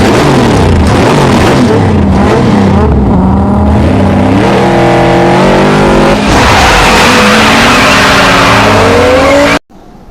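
A Mustang accelerates in a racing video game, its engine note climbing loud and continuous through repeated revs and gear changes with occasional tire squeal, cutting off abruptly at the end.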